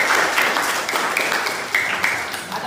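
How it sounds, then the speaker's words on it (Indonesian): A classroom of students clapping together, a quick dense patter of many hands, moderately close, lasting a couple of seconds and fading slightly at the end. "Oke, luar biasa. Tepuk tangan."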